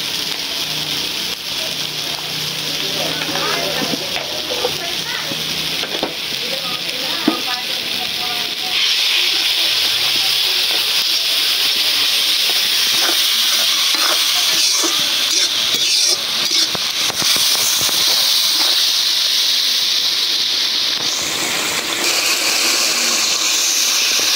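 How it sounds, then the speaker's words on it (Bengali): Spices (turmeric, chilli, coriander and cumin powders) sizzle and hiss steadily as they are sautéed for a snakehead fish curry, a loud continuous frying hiss with occasional scraping stirs and some voices underneath. "মশলা কষাই নিলাম"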